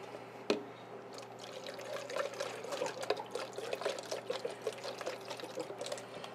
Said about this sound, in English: Back, pouring some more clean stuff.